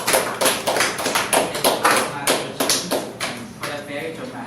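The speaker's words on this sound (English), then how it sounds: "Let's give her a round of applause." Audience applause with a string of quick, near claps or taps in a steady rhythm that slowly fades, while a voice talks over part of it.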